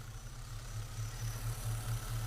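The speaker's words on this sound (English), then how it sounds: "you heard the engine go a little bit lower" A car engine with a newly installed throttle body system idles steadily with a low, even rumble and a slight pulsing throb, close by and alone.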